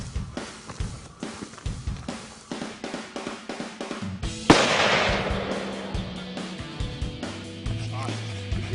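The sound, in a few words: rifle gunshot, 26 Nosler, bear hunting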